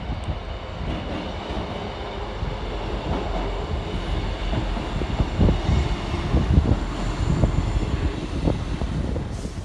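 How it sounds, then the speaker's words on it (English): A South Western Railway class 158 diesel unit pulls into Southampton Central station, a steady rumbling engine and wheel noise that swells gradually with faint rail clatter, heard alone without talk. "Arriving next into the station is 158888, working the 1337 South Western Railway service from Romsey through to Salisbury"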